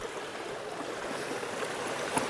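Creek water flows and rushes steadily at moderate volume, a continuous gurgling wash with no voices.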